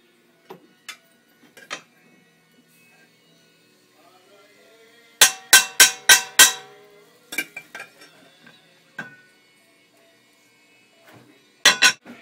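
A thick-bottomed cooking pot being handled on a stove, with scattered metallic knocks and clinks, a quick cluster of five loud clanks in the middle and another pair near the end.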